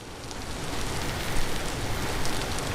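Rain and gravel sifting in the video game Vintage Story blend into a steady, soft hiss that swells slightly midway and continues evenly, with no voices.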